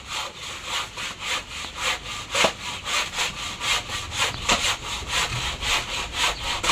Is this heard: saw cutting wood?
yes